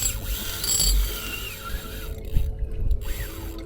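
A fishing reel's drag screams out as a kingfish runs, heard offshore from a small skiff as a rising ratcheting whine, moderately loud and close, with wind and boat noise around it.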